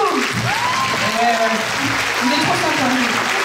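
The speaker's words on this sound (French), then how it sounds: "tonnerre d'applaudissements pour Guillaume!" Dense, continuous clapping from a talent show audience for Guillaume, loud and close, with voices calling out over the applause throughout.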